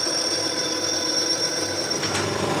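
A metal lathe turns and faces a part for a combine harvester's mechanical unit, giving a steady, continuous machining whine and broadband cutting hiss at close range, with no talk.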